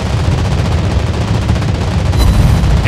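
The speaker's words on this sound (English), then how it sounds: "Anti-aircraft gun on full alert!" Anti-aircraft guns fire in rapid continuous bursts during a real-time strategy video game skirmish, a loud steady rattle of gunfire with no pauses.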